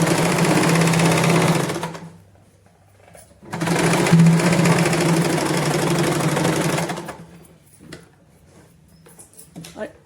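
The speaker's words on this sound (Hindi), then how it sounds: "अब हम ये ऊपर की साइड में पूरी पॉकेट को इस तरह से सिलाई लगा देंगे ताकि हमारी पॉकेट हिले नहीं।" A sewing machine runs in two long loud bursts while stitching a pocket onto a palazzo, its motor whirring with a rapid mechanical chatter, separated and followed by quieter pauses with faint handling noises.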